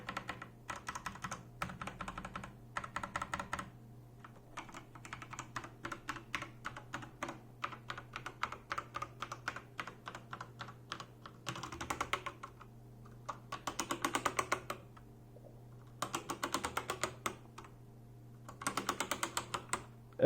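Clicky typing on a Logitech G Pro X mechanical keyboard with GX Red linear switches in quick bursts, pausing between runs of keystrokes, close and crisp with a low steady hum underneath.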